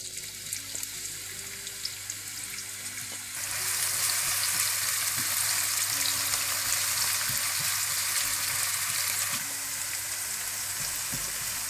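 Onions tossed into very hot oil for vegetarian Hakka noodles set off a loud, steady sizzle that jumps up partway through and holds as continuous frying hiss.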